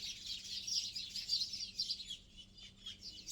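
Small birds chirp and twitter continuously outdoors in Carrapateira, Portugal, a steady high, busy chorus in the background with no voices.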